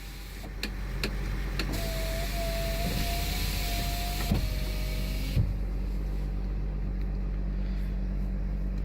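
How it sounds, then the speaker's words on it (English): An electric window motor in a 2019 Mercedes-Benz Sprinter 2500 cargo van whirs steadily for a few seconds over a low cabin hum, with a soft thunk as the window reaches its stop. "Automatic windows."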